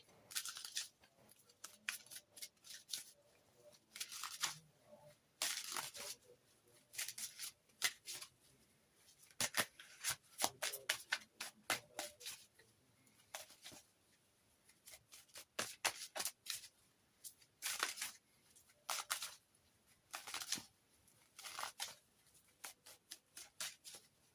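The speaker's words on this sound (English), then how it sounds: "So let's choose our first card and get the reading underway." A tarot and oracle deck is shuffled and cards are chosen, producing soft, close riffling and sliding bursts that come in irregular clusters over a quiet room.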